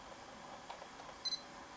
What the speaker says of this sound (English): we got the double beep and the square has gone green